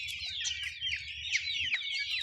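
Black chicks and hens of a laying breed cluck and chirp steadily, close by, with a busy overlapping chatter of bird calls and no talk.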